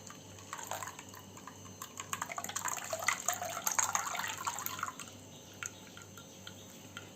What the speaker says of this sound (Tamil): இப்போ நம்ம மிக்சியில் அடித்ததை கொஞ்சம் தண்ணி சேர்த்து இப்போ நான் அதை ஃபில்ட்ரு பண்ணுறேன்